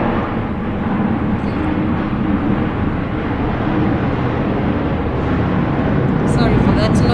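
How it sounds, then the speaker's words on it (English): A steady, broad roar of an airplane passing low overhead near an airport fills the clip, loud and constant with a slight swell toward the end. "We are very close to the airport, therefore the aeroplanes just fly so close to us."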